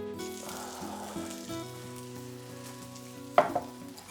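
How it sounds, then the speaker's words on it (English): Soft, steady sizzling and faint crackling from a cheesy pasta bake fresh from the oven, quiet and close, with a brief clatter near the end and no voices. "As you can hear, they are still sizzling."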